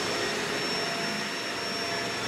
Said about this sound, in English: before any back, before any carpet cleaning, we always pre-vacuum